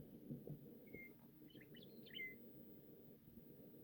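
Faint songbirds chirp in the background outdoors beside a SeaRay Pachanga boat, a few brief whistled calls over a steady low rumble, with no talking.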